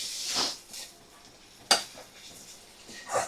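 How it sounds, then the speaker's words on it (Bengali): A metal spoon stirring chicken pieces with spices in a pan, giving a few scattered scrapes and clinks, one sharp knock in the middle, over a faint sizzle in a quiet kitchen. "ভালো করে এবারে নাড়াচাড়া করে মশলা চিকেন ভালো করে আমি কষিয়ে নেব"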